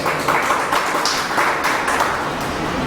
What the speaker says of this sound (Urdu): ایک دفعہ زوردار تالی